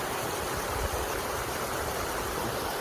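Little Niagara, a small waterfall running at low flow, gives a steady even rush of falling water, constant and fairly close, with no voices.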